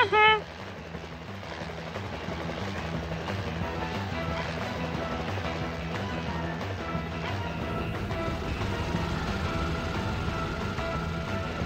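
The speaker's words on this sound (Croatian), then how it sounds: "Pozovimo helikoptera Hektora." A steady whirring drone of a cartoon helicopter hovering, continuous and fairly loud throughout, layered with busy background music.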